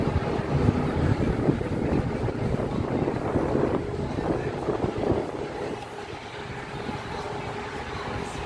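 Gusty wind buffets the microphone in a constant rough rumble on Manhattan's High Line, with distant traffic noise beneath it.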